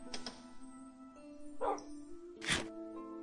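A pet dog in the video game Minecraft gives a few short, clipped barks, spaced apart against a faint ambient drone, with a soft game tone underneath.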